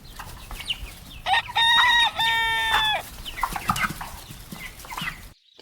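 A farmyard chicken clucks in short bursts, then a rooster lets out a loud, clear crow in the middle, followed by more scattered clucking up close.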